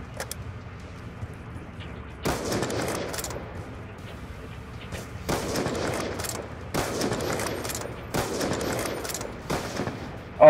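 Video game gunfire in a one-on-one match, several separate bursts of rapid automatic shots a few seconds apart, moderately loud over a steady background hum.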